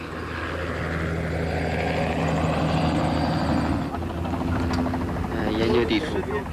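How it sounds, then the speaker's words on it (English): A Chinese army helicopter flies with a steady, loud rotor and engine drone that continues throughout, its whine and thrum filling the scene without pause. "We had a helicopter supplied by the Chinese army"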